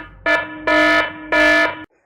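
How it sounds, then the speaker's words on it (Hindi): A Tenda CH7 security camera's alarm sounds loudly in three steady tonal electronic blasts, each about half a second, with brief gaps between, close and alone. "इस पे क्लिक करेंगे तो अलार्म जो है वो हमारा फौरी तौर पे स्टार्ट हो जाएगा।"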